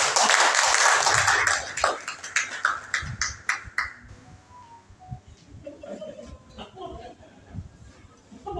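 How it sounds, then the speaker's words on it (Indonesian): A group claps together to applaud everyone at a gathering about children's creativity, a dense burst of clapping lasting about four seconds before it fades out and speech continues over quiet background sounds. "Tepuk tangan untuk semuanya."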